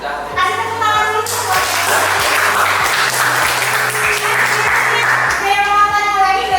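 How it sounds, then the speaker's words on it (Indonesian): Classroom applause from a group of students, a dense burst of clapping for several seconds, with voices talking before and after it and a low hum underneath. "Kasih tepuk tangan dulu"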